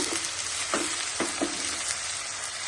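Chillies frying in hot oil, a dense steady sizzle with a few soft stirring knocks, close and alone.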